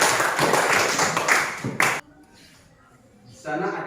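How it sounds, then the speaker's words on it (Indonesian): Audience clapping after a speaker's review at an Indonesian teacher-training classroom session, a dense burst of many hands for about two seconds before it stops abruptly, followed by quiet and then a voice speaking. "tepuk tangannya."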